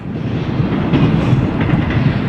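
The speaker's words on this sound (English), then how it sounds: "there goes the railroad" Train running on a railroad across open desert, a steady heavy low rumble with faint clickety-clack of wheels, fairly loud and continuous.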